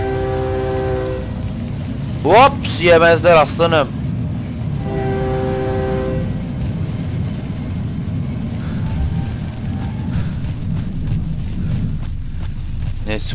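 A passing train in the horror video game Cry of Fear sounds its horn in several loud blasts over a steady rumbling rail drone, while a player talks over it.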